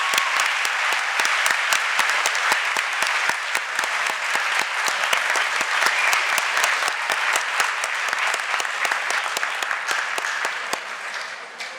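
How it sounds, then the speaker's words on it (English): At the opening plenary of a conference, a large audience gives the speakers a long, even burst of applause that runs loud and steady for about eleven seconds before starting to fade. "please join us in giving one last round of applause to our brilliant speakers."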